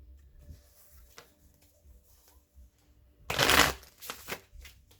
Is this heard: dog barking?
no